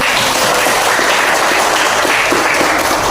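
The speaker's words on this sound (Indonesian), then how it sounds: "Tepuk tangan dulu." Sustained applause from a classroom of students, a dense even wash of clapping filling the whole stretch with no pauses.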